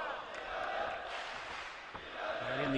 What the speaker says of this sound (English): You can hear the cheer from the crowd.